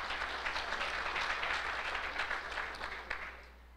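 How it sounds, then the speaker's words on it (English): Audience at a chamber of commerce legislative event applauding, a brief, fairly faint wash of clapping that fades out at the end. "let's give Donna Wilson another round of applause"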